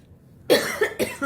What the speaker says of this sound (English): So don't mind my coughing.